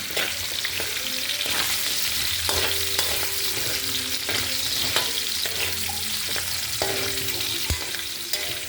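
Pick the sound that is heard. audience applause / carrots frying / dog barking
carrots frying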